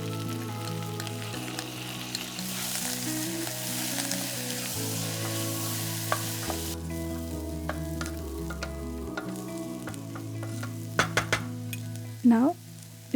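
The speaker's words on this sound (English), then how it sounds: "Now we'll add soaked lentil and roast for a minute." Soaked lentils roasting with softened onion and carrot in a pan, a steady close sizzle and fry hiss with occasional stirring scrapes and light utensil clinks, a few sharper knocks near the end, no talking.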